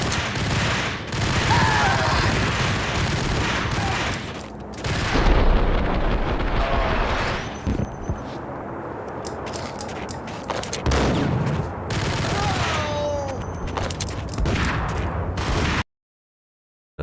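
Uzi fire in the video game Max Payne rattles out in long, dense bursts, loud and close, with short pauses between volleys and a sudden cut to silence at the end.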